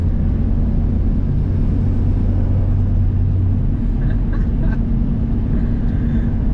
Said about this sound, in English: It's just being able to light the tires up like that.